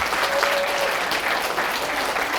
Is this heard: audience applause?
yes